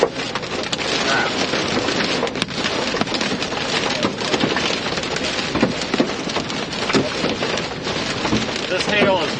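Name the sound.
small hail falling during a storm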